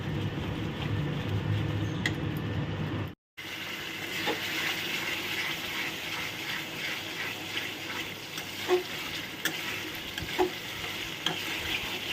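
Spice masala fries in oil in a pan for Kashmiri aloo dum, a steady close sizzle with stirring scrapes throughout, interrupted by a brief silence near the start.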